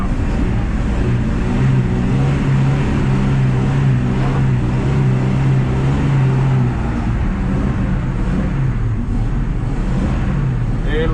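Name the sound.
1968 Ford F100 truck engine revving during clutch kick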